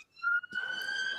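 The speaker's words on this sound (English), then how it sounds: "Yeah, there's an ambulance." An ambulance siren wails nearby with a sustained steady tone after a brief initial yelp, fairly loud and alone without talk.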